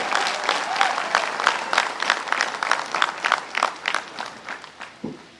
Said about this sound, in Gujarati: એટલે પત્રકાર મિત્રો માટે તાળીઓ થઈ જાય